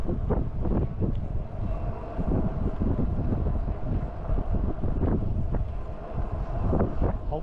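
A constant breeze buffets a camera microphone at an RV campground, producing loud, continuous low rumbling wind noise that swells and dips throughout, with no speech.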